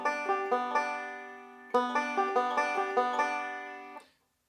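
A 5-string banjo plays a forward roll, bright plucked notes in an even repeating pattern, pausing once and starting again before ringing out, close and alone.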